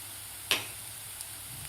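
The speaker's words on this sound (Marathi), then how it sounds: "लसूण आणि खोबरं घातल्यानंतर परतून घेतलेला आहे कांदा" Onion sautéed with garlic and grated coconut sizzles steadily in a pan, with one sharp clink of a spoon against the metal over the low, even hiss.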